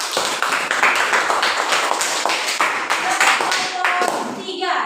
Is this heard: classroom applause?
yes